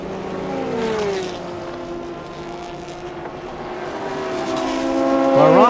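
Lamborghini and Audi race cars scream around a track, their engines whining in sweeping, shifting tones that fade and then swell into a loud approaching roar at the end.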